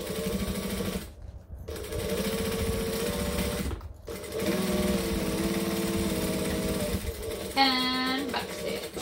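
A sewing machine hums steadily while stitching a tote bag, running in long stretches broken by two brief stops, with a short higher whir near the end.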